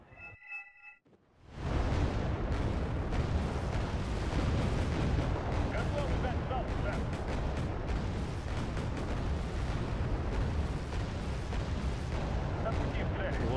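Artillery salvo firing in the war strategy game Wargame: Red Dragon: a dense, sustained roar of booming blasts that continues loud and unbroken after a brief quieter start.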